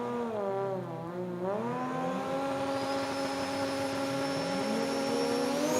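A Camry and an R35 launching at an Australian sports compact drag race, engines roaring and revving in a dense, continuous, rising wail, loud and sustained, with no talk over it.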